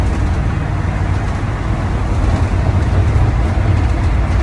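An RV motorhome cruising down the road, with a steady low engine and road rumble and a constant broadband hiss of wind and tires throughout.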